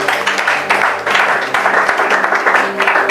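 A church congregation applauds together, a dense, loud wash of clapping hands that swells and continues steadily for a few seconds with a faint voice underneath.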